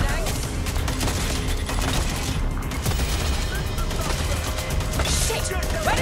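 Gunfire from the video game Watch Dogs: Legion crackles in dense, continuous bursts of rapid shots across the whole stretch, loud and busy, with no clear gaps between volleys.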